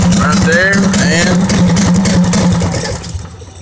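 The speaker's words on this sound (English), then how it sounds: "Sweet motor" Predator 212 small single-cylinder engine idling steadily with a rapid even putter, close and loud throughout, fading slightly at the end.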